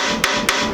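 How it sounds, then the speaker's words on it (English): A hammer gives two quick, sharp taps seating a ball joint on a Jeep XJ front end, close and loud over a steady background hum. "Give it a little tappy tap right here."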